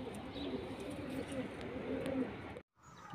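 Prized tournament racing pigeons coo softly on a rooftop, low repeated calls against a steady ambient hiss, before a brief cutout near the end.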